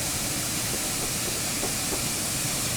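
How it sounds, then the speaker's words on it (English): Saint Class steam train on the Severn Valley Railway: a steady, loud broadband hiss and rumble with faint rhythmic clicks running underneath throughout. "But at least we got some trains to enjoy"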